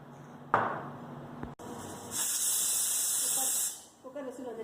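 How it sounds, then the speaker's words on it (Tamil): Pressure cooker on a microwave-based meal setup releases a loud, steady steam whistle-hiss lasting over a second, preceded by a brief burst and clatter, with faint kitchen noise afterward. "குக்கர் விசில் வந்துருச்சு."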